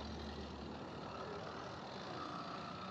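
Motorized bicycle engine running steadily at close range, a continuous rough buzzing drone with no pauses, loud and alone without talk.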